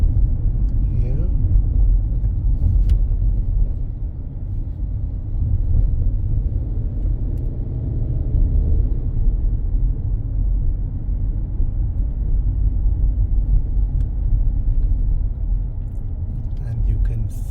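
A car drives along roads in the Parish of St. John, Barbados, with a steady low engine and tyre rumble that stays even throughout and a few faint knocks and rattles.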